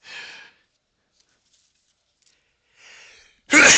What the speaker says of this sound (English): So I've been sneezing a lot today